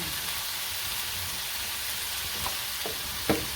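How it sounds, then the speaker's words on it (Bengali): Onions fry with salt in a pan for a village fish curry, giving a quiet, steady sizzle with a few small clicks and taps near the end. "এই প্রথমে পেঁয়াজ ভেজে নিচ্ছে লবণ দিয়ে দিলাম"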